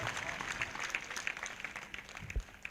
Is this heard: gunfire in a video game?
no